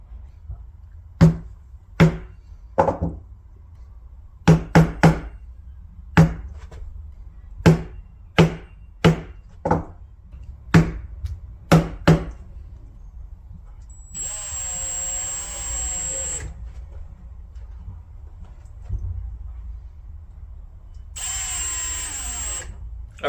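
Lamello Clamex connector fixing screws are driven into wood for a butt and mitre joint: a string of sharp, close, evenly spaced drill bursts, then two longer steady whirring runs with a high whine.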